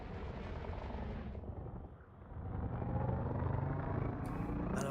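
Ship weapons fire during strafing in the Elite Dangerous video game as a dense rumbling roar that dips briefly, then swells back louder and steady.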